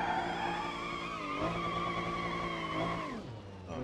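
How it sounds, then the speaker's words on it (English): A Nissan S15 is driven hard in BeamNG.drive, its engine whining in rising and falling pitch while the tires squeal through continuous skids, with a sharp engine note change near the end. "Driving a stolen S15."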